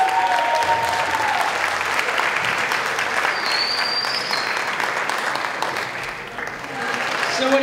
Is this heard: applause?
yes